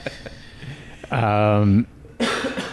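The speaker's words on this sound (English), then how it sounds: "The coughing is good. It's organic. It's real." A voice lets out a sustained, strained coughing or throat-clearing burst, close and loud, bracketed by indistinct talk before and after.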